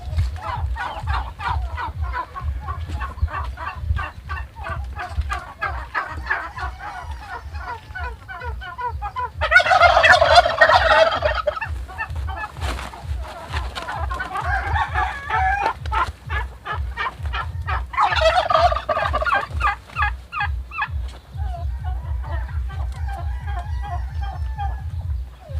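Pet turkeys gobble repeatedly at close range on a farm, with bursts of loud gobbling and clucking over a steady rhythmic low background noise throughout.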